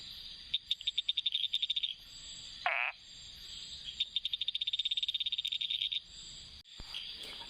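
A frog puffing up its throat croaks after monsoon rain in Kerala, giving loud, close, rapid pulsed trains in two long bursts with a brief different call between them, over faint insect hum.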